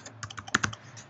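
Keys on a computer keyboard tapped out as a phone number is entered, a quick irregular run of light clicks with a couple of louder strokes, close and quiet with no talking.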